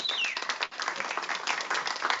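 Audience at a cooking competition claps to vote for a contestant, a steady dense round of applause of moderate loudness throughout, with a brief dip partway.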